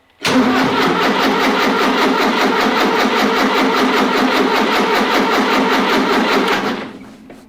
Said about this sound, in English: I could crank and crank and crank, but I'll only flatten the battery.